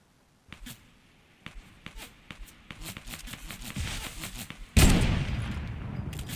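Gunfire in Fortnite Season 8: scattered shots crack out in quick bursts, building into denser volleys before a single loud, close blast near the end, with no talking.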